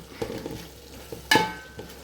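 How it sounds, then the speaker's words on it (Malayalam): Cooked Indian Gate rice being stirred and fried in a pan for vegetable fried rice, with a soft sizzle under light scraping and one sharp clatter of a utensil midway. "ഇനി ഇതിലേക്ക് വേവിച്ച് വെച്ച ഇന്ത്യൻ ഗേറ്റിൻ്റെ അരിയിട്ട് കൊടുക്കുക"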